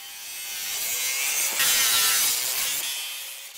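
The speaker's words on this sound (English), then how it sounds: "I'll cut up an old worn lawnmower blade to get a more accurate comparison" Saw cutting through an old, worn steel lawnmower blade, a steady loud rasping scrape that holds for several seconds with a brief surge partway through, no voices.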